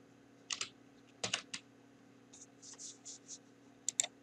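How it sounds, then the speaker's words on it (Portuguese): Keys tapped on a computer keyboard to press Windows+R and type a command: short, faint bursts of clicking keystrokes with gaps between groups, close by in a quiet room. "vamos pressionar as teclas simultaneamente, o Windows mais R do seu teclado"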